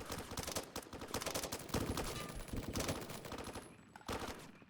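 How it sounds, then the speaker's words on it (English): Rapid gunfire during a military training exercise, loud bursts of automatic shots cracking in quick clusters with short gaps between volleys, close and harsh. "Getting shot at."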